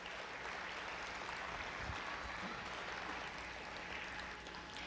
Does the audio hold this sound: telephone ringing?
no